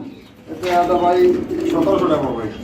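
Pigeons coo in soft, throaty bursts close by, with a voice speaking over them.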